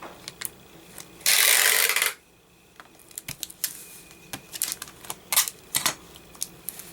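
Paper is folded and tape is pulled for an ephemera envelope. A loud two-second tearing rasp of tape comes first, followed by close, scattered crinkles, taps and small clicks of paper handling.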